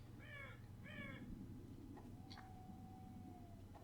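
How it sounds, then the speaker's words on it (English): Crows in the Half-Life 2 video game give two quick harsh caws near the start, followed by a fainter call and a thin sustained tone, all at low level with no talking. "Are those crows flying towards the portal?"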